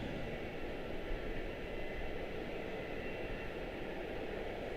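A passenger airliner taxis past at Charlotte-Douglas airport, its engines producing a steady, even rumble and whine that holds at a moderate distance throughout with no change in intensity.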